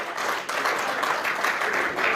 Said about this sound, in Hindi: देखिए वो ताली बजा रहे हैं